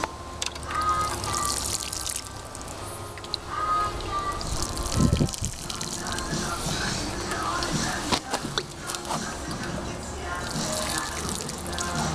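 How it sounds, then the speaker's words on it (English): Water pours and trickles steadily onto newly planted tomato plants in a sunny garden, up close with brief splashes, while a voice speaks now and then. "Now I should give that a little water"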